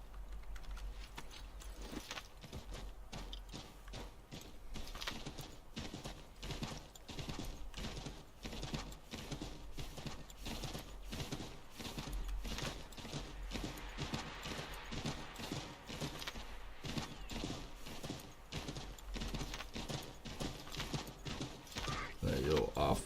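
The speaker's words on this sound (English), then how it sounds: "Oh, my trusty assassin horse." Horse hooves clip-clop steadily in Assassin's Creed III as the assassin's horse trots along, a continuous rhythmic patter over game ambience, with a voice talking over it.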